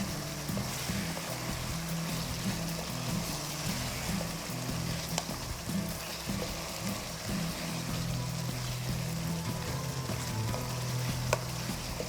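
Masala frying in a kadhai over coal gives a steady, dense sizzle that runs unbroken throughout, with faint scraping under the hiss.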